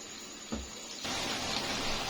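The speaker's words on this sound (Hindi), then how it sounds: "ये इसमें 1 गिलास ये पानी डाल के इसको मैं मीडियम फ्लेम पे ये अरवी और चिकन को गला दूंगी।" A glass of water is poured into a pot of taro and chicken curry, a short splash followed by a steady, close pouring and gushing sound with no one talking.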